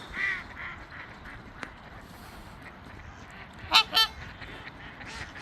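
Geese at a Minnesota lake give two loud, sharp honks close together near the middle, after softer calls early on, over a quiet outdoor background.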